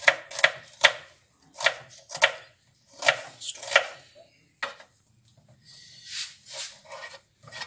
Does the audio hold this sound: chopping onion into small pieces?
yes